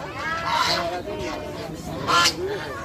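Ducks at a large open-air livestock market in Dhaka honk and quack in repeated nasal calls, close and fairly loud, with a louder burst near the end over a busy market background.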